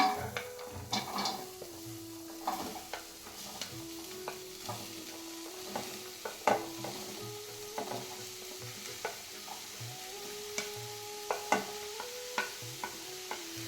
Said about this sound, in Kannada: ಬಾಣಲೆ ಬಿಸಿ ಆಗಿದೆ. ಇವಾಗ ಈರುಳ್ಳಿ ಹಾಕ್ಕೊಳ್ತಾ ಇದ್ದೀನಿ.